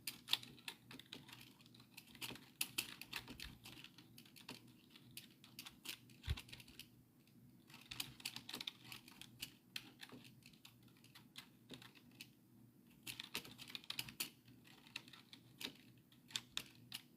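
Typing on a computer keyboard, a steady run of quick, close clicking keystrokes in bursts with brief pauses, alone without any talking over a low background hum.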